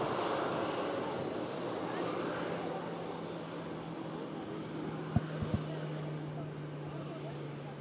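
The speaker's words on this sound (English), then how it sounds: "Ryanair 737-800, just taxiing it." A Ryanair Boeing 737-800 taxis at Manchester Airport toward Terminal 3, heard as a steady, fairly faint engine rumble with a low hum, plus a couple of brief clicks near the end.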